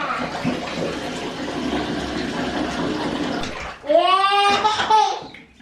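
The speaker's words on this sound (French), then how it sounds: "Il n'y a pas assez d'eau, faut en remettre un peu." Water pours steadily into a container holding fish for about four seconds, a continuous close splashing stream, followed by a brief burst of child-like voices.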